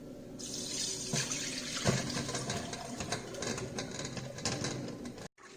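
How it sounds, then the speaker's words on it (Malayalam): Water strained off soaked banana pieces in a kitchen, a steady close pour and splash that runs for several seconds before cutting off abruptly near the end. "ഈ വെള്ളം ഒന്ന് സ്ട്രെയിൻ ചെയ്ത് എടുക്കാം"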